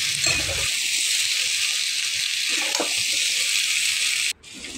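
Pumpkin pieces frying in oil tempered with black mustard seeds give a loud, steady, close hiss that drops out briefly near the end before resuming.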